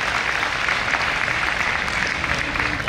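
An audience at a memorial lecture series on Dnyaneshwari and modern life applauds in a steady, dense burst of many hands clapping, loud and continuous throughout, with no talk on top.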